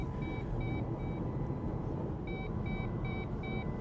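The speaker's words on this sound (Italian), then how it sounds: "Sento una specie di allarme," Faint, high electronic alarm beeps sound inside a car during a road trip from Milan to Rome, repeating in short evenly spaced pairs over a steady rumble of road and engine noise, with a brief pause midway.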